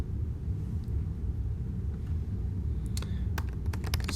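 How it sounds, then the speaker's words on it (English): Quick, light keystrokes tap out a hardware ID on a computer keyboard, a short burst of clicks near the end over a low steady background hum. "I'm going to type in my hardware ID"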